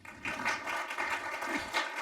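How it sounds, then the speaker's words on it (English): A conference audience gives a round of applause after a talk on phishing research, a soft, steady patter of many clapping hands heard from a distance. "All right, so another round of applause."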